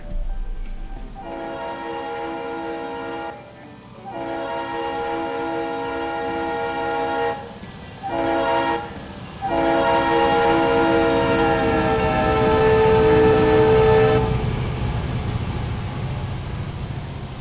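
A freight train in the game Railroader rolls past with a loud, sustained horn blaring in several long blasts over the rumble of the cars, with short gaps between blasts.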